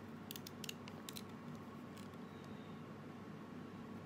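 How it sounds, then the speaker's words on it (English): Scissors snip through a papaya being carved into a water lily, a few quick, crisp cuts in short clusters over a quiet, steady background hum. "I'm gonna switch my scissors and then cut it on the other side."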